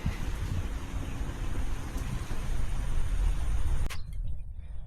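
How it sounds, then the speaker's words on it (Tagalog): A steady, loud rush of wind and rain fills the air, then cuts off abruptly near the end and leaves things much quieter. "Yan na ngayon ang hangin yung ulan."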